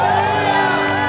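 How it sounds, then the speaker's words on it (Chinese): A church congregation raises loud applause, cheering and scattered high screams in a dense, continuous roar of voices at close range during worship praise. "掌声欢呼加尖叫"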